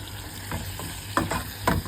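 Spices such as turmeric and garam masala being stirred into frying food in a pan, with a steady sizzle and a few scraping strokes of the spoon, close and without talk.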